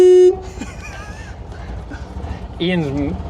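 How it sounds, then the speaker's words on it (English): Horn of a strange, very slow car, sounding in short toots at the start and again near the end, loud and close, with a voice talking between them. "Our camera guy's probably wondering why I'm honking at him."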